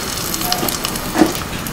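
Bay leaves sizzle in hot oil in a wok for a homemade vegetarian vegetable dish, giving a steady close hiss with a brief louder crackle near the end.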